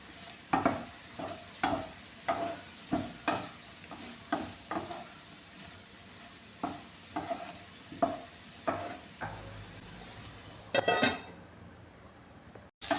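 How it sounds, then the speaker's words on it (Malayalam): Carrot and green bean mezhukkupuratti being stirred in a pan: about a dozen rhythmic scraping strokes over a soft, steady sizzle, ending with a louder clatter. "പിന്നെ ഇത് ഒന്നുകൂടെ ഒന്ന് ഇളക്കി കൊടുക്കും"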